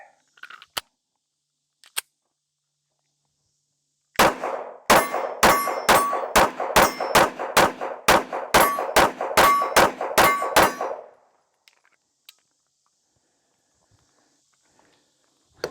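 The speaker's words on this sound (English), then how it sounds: "let's shoot this other mag through it real quick" A Smith & Wesson Shield X pistol fires a rapid string of about fourteen loud, sharp shots in steady rhythm, close to the microphone, after a couple of isolated clicks.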